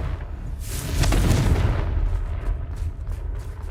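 The Confringo spell in the video game Hogwarts Legacy detonates in one loud close booming explosion with a deep rumbling burst that fades over a few seconds.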